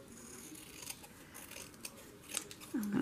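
Scissors snipping paper while trimming pieces for a Halloween journal, several quiet crisp cuts close by, with a louder snip near the end.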